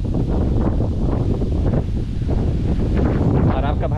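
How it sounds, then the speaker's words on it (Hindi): Strong wind blowing beside a village pond, buffeting the microphone in heavy, continuous low gusts that persist throughout. "ये देखिए यहाँ पर हवा कितना तेज़ चल रहा है"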